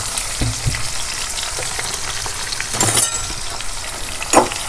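Onion, green chilli and garlic fry together in a pan, a steady close sizzle with occasional stirring clinks and scrapes, no voices.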